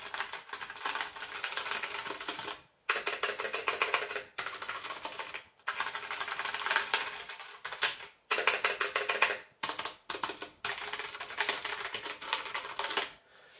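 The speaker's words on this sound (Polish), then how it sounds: "posłuchajcie, jak pracują te przełączniki Braun." Typing on a Genesis Thor 303 mechanical keyboard with Outemu Brown switches: dense, rapid clacking in sustained bursts separated by brief pauses, close and fairly moderate in loudness.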